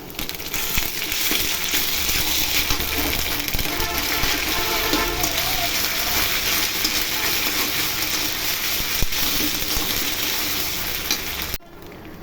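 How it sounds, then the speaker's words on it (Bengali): Ginger-garlic paste fries in hot oil in a pan, giving a loud, continuous crackling sizzle with occasional scraping of a stirring utensil throughout, then an abrupt cut at the end. "আদা রসুন বাটা দিয়ে ভেজে নিব।"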